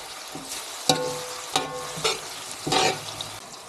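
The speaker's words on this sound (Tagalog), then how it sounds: "Tapos i-add na natin tong karne para masangkot siya" Beef sautéing with softened tomatoes and onions in a pan for caldereta, a steady sizzle punctuated by several sharp stirring scrapes and clatters, close and fairly quiet, no talking.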